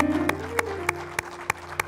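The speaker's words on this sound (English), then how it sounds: "I would like us all to give an astounding round of applause to India for doing what she had to do, and to Brett" At a church service, a handful of spaced, distinct handclaps ring out in an even rhythm over sustained musical tones.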